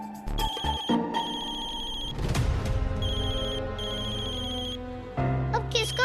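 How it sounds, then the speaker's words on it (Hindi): A loud, bright electronic ringtone melody plays over background music and sound effects, repeating in short phrases with a brief pause near the end. "अब किसका फोन आ गया?"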